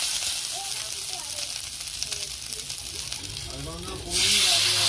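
Drumstick vegetables stir-fried in a pan with ginger, a steady close sizzle and hiss throughout with stirring scrapes, swelling to a louder, brighter sizzle near the end.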